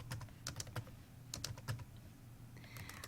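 Quick bursts of keystrokes clatter on a computer keyboard, irregular clusters of light clicks close to the microphone with short pauses between them.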